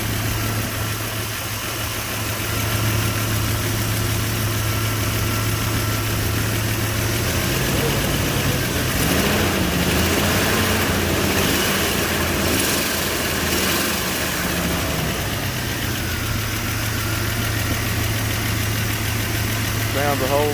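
A farm Jeep's engine idles steadily and close by with a constant low rumble and vibration. The idle shifts briefly partway through, then settles back.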